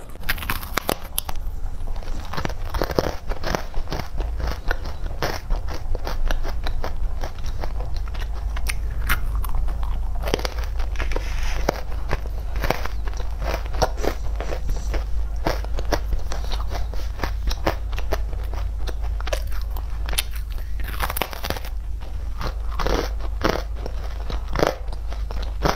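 Crunchy macarons are bitten and chewed close up, with dense continuous crackling crunches and no speech for the whole stretch.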